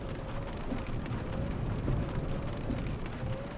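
Steady rain from a rain mod in Euro Truck Simulator 2 falls as a continuous broadband hiss, even and fairly loud throughout, with a low rumble underneath and no talking.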